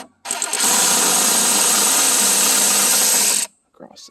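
Power tool loosening 7mm bolts on the oil cooler of a Chevy C3500 with a 6.5L diesel, a loud, close continuous whir lasting about three seconds, then brief handling sounds.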